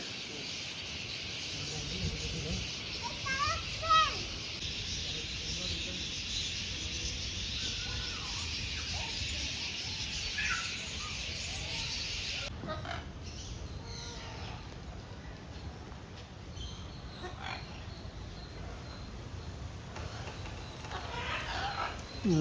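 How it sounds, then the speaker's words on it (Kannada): Parrots screech and chatter at the zoo in the evening, a continuous chorus of shrill calls at middle distance with sharper cries standing out, while people talk faintly nearby. "ಅದಕ್ಕೆ ಏನೆಲ್ಲ ಕಿರ್ಚ್ಕೊತಾವೆ ಗಿಳಿಗಳು"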